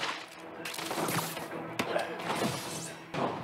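A web bomb gadget detonates during Spider-Man PS4 combat, sounding as a dense burst of crashing, smashing impacts and sharp thuds amid constant game noise, with a voice briefly over it.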